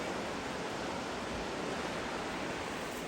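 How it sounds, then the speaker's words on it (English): A creek tumbles over small waterfalls along the Foothills Trail, producing a dense, even rushing roar that stays constant and close with no other sounds. "There's lots of these waterfalls along the way."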